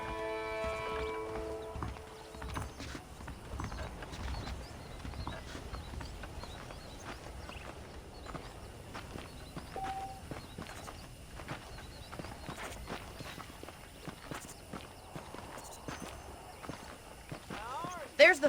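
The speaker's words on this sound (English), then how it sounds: "The horses are saddled up over here." Horse hooves clip-clop at a walking pace in the Western video game Red Dead Redemption, a soft, steady rhythm running beneath talk, with birds faintly in the background.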